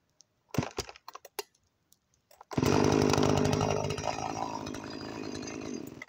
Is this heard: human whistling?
no